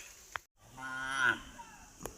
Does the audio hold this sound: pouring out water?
no